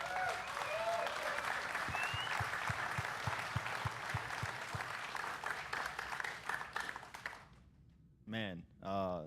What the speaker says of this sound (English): Let's give Sandy a round of applause.